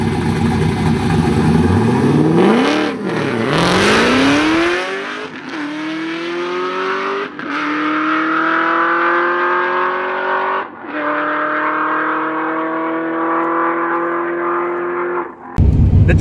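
A car launches hard down a drag strip on a timed pass, the engine screaming up through the revs with sharp gear changes, a brief tire chirp near the start, then sustained loud high-rpm acceleration until an abrupt lift at the end.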